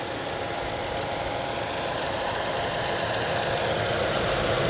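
A 2015 Scion tC's 2.5-liter four-cylinder engine idles steadily with an even low hum and faint mechanical ticking, unchanging for the few seconds.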